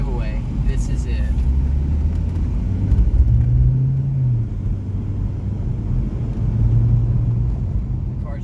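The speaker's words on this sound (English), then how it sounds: "The car's driving." Steady low engine rumble of a car driving on the road during a cross-country trip across the United States, continuous and close with mild swells, while people talk over it.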